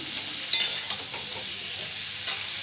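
Cauliflower frying in a pan with cloves, cinnamon, cardamom and bay leaf, a continuous close sizzle broken by a few sharp stirring scrapes and clinks of a utensil.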